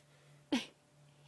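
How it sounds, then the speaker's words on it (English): Lioness on a sunset safari in Sabi Sand sneezing to clear inhaled flies: one sharp, close, breathy burst, then a second beginning at the end, over a quiet outdoor background. "have to have a bit of a sneezing fit to get rid of them"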